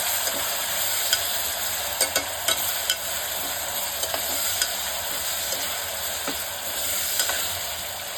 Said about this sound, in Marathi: आता ही चांगली आता आपल्याला भाजून घ्यायची आहे